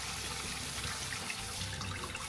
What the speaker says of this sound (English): We need to strain and rinse both the black beans and the corn.